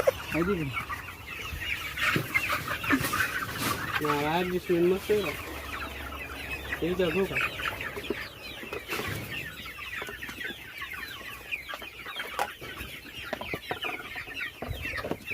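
Free-range village hens cluck repeatedly on a small poultry farm, close and lively bursts of clucking with occasional calls, while people talk intermittently nearby.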